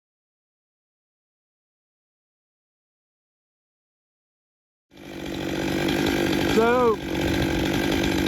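A chainsaw with a freshly replaced ignition module starts after silence and keeps running at a loud, steady idle, with a brief voice cutting in over the engine.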